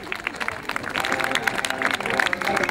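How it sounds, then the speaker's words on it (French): Audience at a magic show clapping and cheering, a steady crowd applause with voices mixed in throughout, fairly close and continuous. "Allez-y monsieur, on l'applaudit bien fort"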